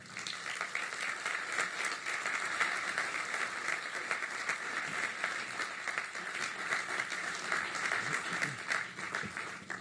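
Steady, dense applause from an audience at an engineering-institute funding celebration, welcoming a student speaker to the stage; sustained clapping fills the whole stretch without a break.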